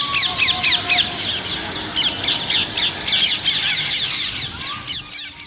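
A rose-ringed parakeet gives loud, shrill screeching calls in quick repeated bursts, close and continuous throughout, with no talking.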